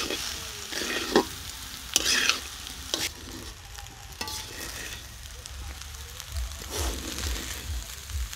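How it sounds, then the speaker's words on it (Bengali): Mutton fried rice is stirred and tossed in a hot pan, sizzling steadily with repeated scraping and clanking strokes of the spatula, close and fairly loud, with no talk. "এখন ভালো করে নেড়ে চেড়ে নেব।"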